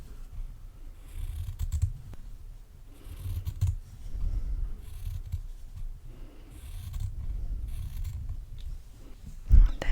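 Scissors snipping fabric for English paper piecing by hand, heard up close in a quiet room as soft, repeated crisp cuts with brief pauses and light handling rustle between them.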